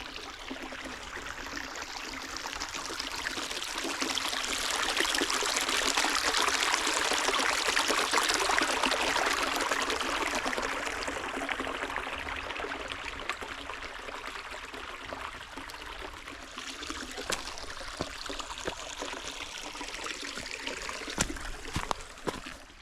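A small stream trickles down a little canyon at Loch Raven Reservoir, a continuous close rushing hiss of water that swells in the middle then settles, with a few faint clicks toward the end.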